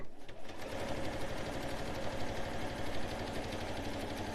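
A sewing machine quilting fabric for a Christmas stocking, running at a steady fast whirr with a rapid mechanical stitching rhythm, close and continuous after a brief start.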